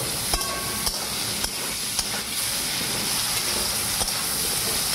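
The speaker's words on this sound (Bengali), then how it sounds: "এবারে এই দেখুন হলুদ লেমন মাখিয়ে একদম লাল লাল করে ভেজে ফেলবো" Pointed gourd coated with turmeric frying in hot oil in a wok, a dense steady hiss and sizzle with regular sharp ticks of a spatula striking the pan every second or so.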